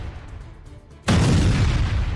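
A sudden deep bomb explosion booms after a quiet rumble and rolls on as a loud, sustained roar of blast noise.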